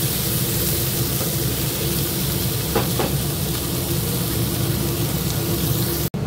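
Carrots and beans frying in a pan, a steady close sizzle holding for several seconds with a couple of brief stirring scrapes partway through, no voices.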